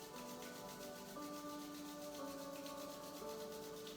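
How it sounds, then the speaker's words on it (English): Palms rubbing briskly together to build warmth during a gentle yoga session, a steady close, soft, even friction swish over a low, quiet background tone. "Bring our hands together and just begin to rub, creating heat and friction."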